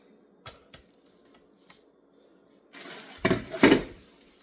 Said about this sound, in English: So we're gonna add those to the crock pot. Let me take the lid off.